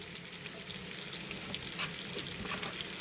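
Onions sizzle and fry in a pan with bitter gourd for a stuffed kakarakaya fry, giving a steady, soft, close crackle with no talking.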